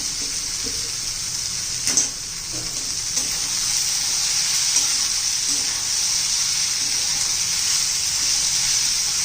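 A masala with cashews sautés in a pan for a paneer masala, giving a soft, steady hiss of gentle frying with a few faint stirring knocks near the start; no voices.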